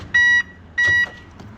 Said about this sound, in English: This has got an alarm on, so you'll have to just bear with while I do this